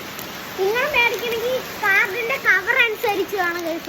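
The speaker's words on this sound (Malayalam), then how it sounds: "ഇവിടെ പണ്ടര പൊരിഞ്ഞ മഴയാണ്." Heavy rain pours steadily as a constant broadband hiss in the background while a person talks over it throughout.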